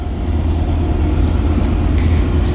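A Norfolk Southern mixed manifest freight train rolls past close by with one ditch light out, a loud continuous low rumble and steady wheel roar throughout.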